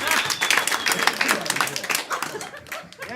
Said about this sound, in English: Clap if you got somebody in your family.